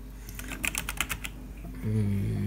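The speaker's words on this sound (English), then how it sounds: "here's my keyboard. It's from Logitech G413. It's a mechanical gaming keyboard." Quick run of crisp keystrokes on a Logitech G413 mechanical gaming keyboard, close and distinct, then a low hum takes over at the end.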